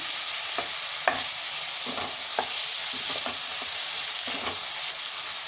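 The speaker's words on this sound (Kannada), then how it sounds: "ಸ್ವಲ್ಪ ಹೊತ್ತು ಇದರಲ್ಲಿ ಫ್ರೈ ಆಗಲಿ" Chicken with turmeric sizzles in a pan for a chicken gravy, a constant bright hiss with a series of light stirring scrapes and taps, close by and without speech.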